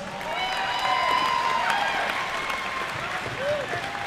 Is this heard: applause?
yes